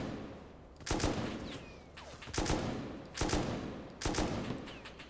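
Four evenly spaced gunshots from a long-range weapon in the video game Rust, each a sharp crack with a trailing echo, fired roughly every three-quarters of a second.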